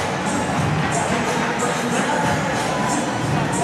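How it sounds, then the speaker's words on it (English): A basketball crowd roars wildly at the PSL President's Cup championship finals in Caloocan Sports Complex, a dense, steady wall of cheering and shouting throughout, loud and continuous with no gaps. "the crowd is very wild here"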